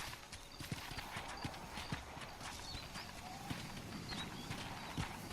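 In Red Dead Redemption, a horse's hooves clop steadily at moderate volume, close and rhythmic, over a dense, noisy outdoor backdrop, with occasional sharper hoof strikes.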